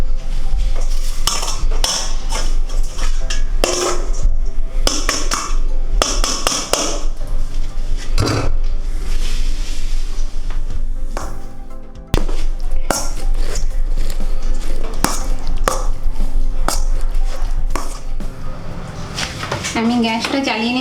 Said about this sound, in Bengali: এবার এটাকে একটুখানি হাত ম্যাশার দিয়ে ম্যাশ করে নেবো